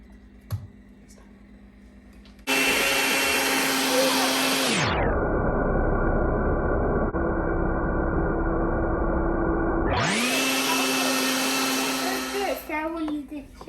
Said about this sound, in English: So we're gonna use a blender. So we got it all blended up